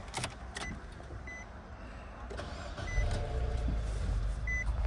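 A 2013 Nissan Juke's engine cranks and catches, settling into a steady low idle after a few seconds of lighter clicks and chimes, close by with no talking.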